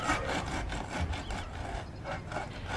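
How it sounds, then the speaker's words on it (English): A board screeds sand smooth while a backyard patio is being laid, a continuous gritty rasping scrape with rhythmic pushes, close and fairly loud throughout with no talk. "I'm screeding out the sand."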